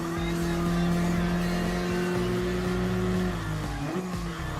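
Race car engine in Gran Turismo Sport roaring steadily and loud, with tires squealing and skidding as the car nearly spins out, a sustained tonal whine continuing throughout.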